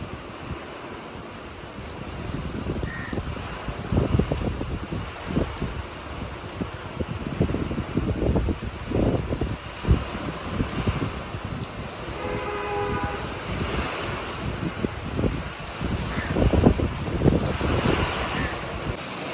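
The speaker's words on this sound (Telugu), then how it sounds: "వర్షం చూడండి ఎలా పడుతుందో" Strong gusts of wind buffet the microphone in rough, surging rushes, with a constant roar of rain and weather in the background.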